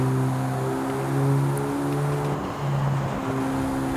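A car engine with a V8-like burble, running without its muffler, idles and revs steadily up close, its low droning tones rising and falling with a brief dip near the end.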